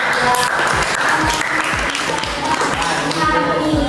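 Students in a class applaud a classmate, a steady mass of clapping running the whole stretch at fairly close range, with some speech-like murmur mixed underneath.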